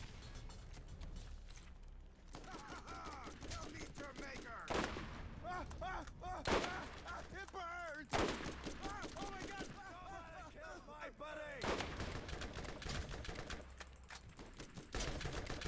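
Sniper rifle fire in the video game Borderlands, a string of sharp, loud shots spaced a few seconds apart over game sound, with a voice talking between them.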